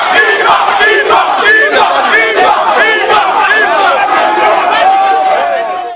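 A loud crowd of shopkeepers protesting in the street, many voices shouting and chanting together in rhythmic surges, close and sustained until it cuts off abruptly.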